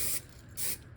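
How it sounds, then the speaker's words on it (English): Hairspray hisses from an aerosol can onto hair in two short close bursts, separated by a brief pause. "I'm just spraying it"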